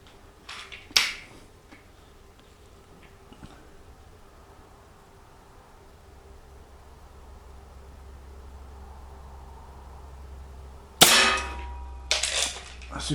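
A Baikal MP-53M break-barrel .177 air pistol fires at a sea can: a sharp crack followed by a metallic ping of impact, then a quiet stretch and a cluster of clicks and clatter as the gun is handled.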